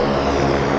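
Airliner rotating and climbing on takeoff at Vancouver airport, a loud, steady engine roar filling the whole short moment with no voices.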